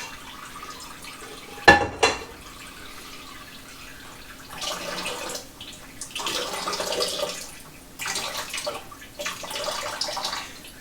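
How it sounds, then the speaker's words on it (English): Ginger lemon juice squeezed through a fine mesh strainer while brewing mead: after a sharp knock, intermittent bursts of trickling and dripping liquid come and go, close by and fairly soft. "So I'm squeezing it through a fine mesh strainer to get out every last drop possible."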